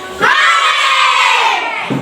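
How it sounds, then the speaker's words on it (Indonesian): A class of schoolchildren shouts hooray together in one loud, sustained group cheer lasting nearly two seconds, rising sharply at the start and trailing off at the end. "sekali lagi ibu ingin mendengar lagi bagaimana kalian berteriak hore"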